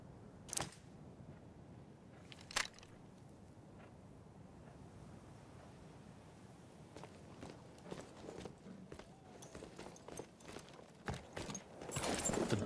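In the video game Battlefield 1, horse hooves clip-clop faintly at a distance, irregular soft thuds building toward the end, with a couple of sharper isolated knocks early on and no talk.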